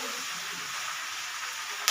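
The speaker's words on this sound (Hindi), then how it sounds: "देखिए इसमें चिकन गिरा देते हैं" Chicken pieces dropped into a pan of whole onions frying in oil give a steady, close, fairly loud sizzle throughout, with a brief burst of extra spitting near the end.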